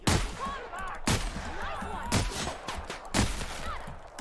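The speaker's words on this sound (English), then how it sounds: "Shotguns are fantastic in this game." Shotgun blasts in The Outer Worlds, several loud sharp booms about a second apart, each with a ringing tail, mixed with in-game shouting and combat noise.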